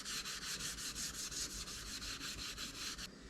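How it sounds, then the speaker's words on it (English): Steel wool rubbed briskly back and forth over stained wooden boards, a close, even scrubbing rhythm of about a dozen strokes, alone and without talk. "Now if you do rub too much with the steel wool, it will take the stain right off, because it will sand the board."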